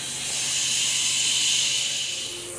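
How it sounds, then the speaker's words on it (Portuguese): Garlic fries in a pan for seasoning beans, a steady close sizzling hiss that swells briefly and then eases, with no talk. "eu tô aqui já fritando um alhozinho pra temperar meu feijão"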